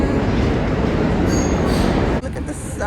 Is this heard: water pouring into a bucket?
no